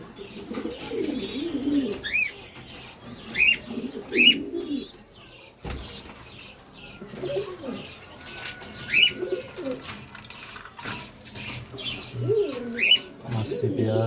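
Racer pigeons coo in repeated soft, throaty calls, with occasional chirps and wing sounds mixed in at close to moderate distance over a steady background.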